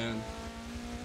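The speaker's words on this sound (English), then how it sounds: "You can hear the car, so that's why he's slow." Race car engine in the Forza video game, a steady loud droning hum with a faint squeal, heard alone for about a second.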